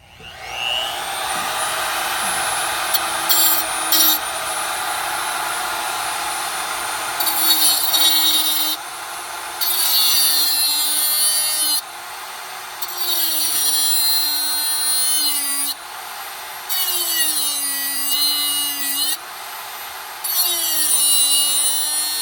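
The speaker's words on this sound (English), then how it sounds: "So after a bunch of grinding" A grinder cuts through a seized front stabilizer bar end link on a 2009-2015 Honda Pilot. Loud, close whining bursts run for several seconds each, broken by short pauses where the tool eases off and revs back up.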